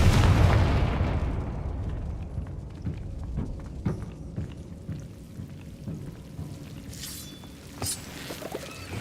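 A Confringo fire spell blasts in Hogwarts Legacy, a loud booming explosion at the start that rumbles and decays over several seconds, followed by scattered thuds, crackles and softer game effects.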